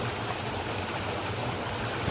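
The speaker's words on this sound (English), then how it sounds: "Nice little pools here where the water flows." Mountain creek water flowing between small pools, a steady close rushing babble that holds constant and loud with no voices.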